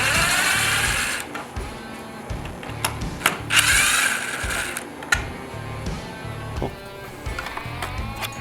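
A screw is worked out of a car turn-signal light housing with a hand tool, giving close, rhythmic clicking and ratcheting turns with short pauses between them.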